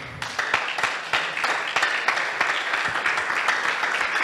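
Steady, sustained applause comes from a church congregation clapping for the Lord, with dense overlapping claps that carry on evenly throughout.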